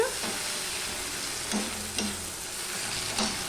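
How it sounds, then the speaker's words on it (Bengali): Tomato, green chilli and onion frying in a pan while being mixed, a steady close sizzle broken by a few sharp spatula scrapes and taps. "দিয়ে সম্পূর্ণটা আমি মিশিয়ে নিচ্ছি"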